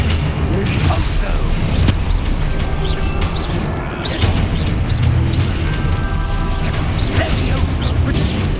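Depulso spell cast in the video game Hogwarts Legacy, a burst of magical impact with crashes and booms amid busy combat effects and rumbling game music, alongside other spells in a loud running battle.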